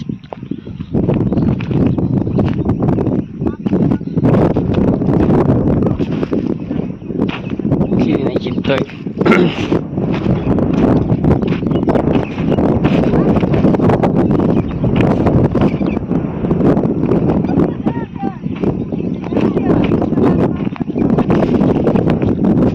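Strong wind sweeps across an open field during a sesame harvest, a loud, steady, unbroken roar of buffeting gusts lasting the whole stretch, with voices faintly beneath it.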